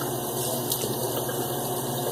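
Water runs from a tap in a steady, even gush as head and face are wetted before a head shave, a continuous close splashing flow with no talk.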